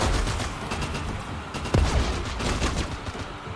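Gunfire in the shooter game FRAG: dense, rapid bursts of shots crackle throughout with one heavier blast partway through, loud and close with no talking over it.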